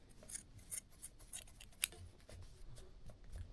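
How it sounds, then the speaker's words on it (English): First aid kit scissors snip through small yarn loops while a bow string silencer is being made, with several quiet, close, crisp cuts spaced out and no talk. "and you just cut those little loops"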